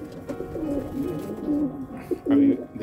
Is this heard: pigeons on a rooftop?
yes